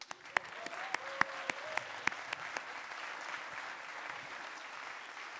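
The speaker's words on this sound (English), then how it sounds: "So some applause," An audience at the FameLab International Final 2017 applauds to welcome festival director Ian George, with a few sharp, separate claps at first that blend into a steady wash of clapping.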